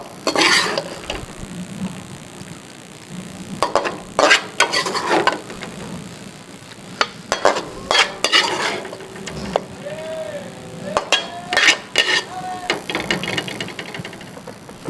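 Chicken jalfrezi stirred and dished out of a pan, with a spoon or ladle scraping and clinking against metal in irregular bursts over a faint background.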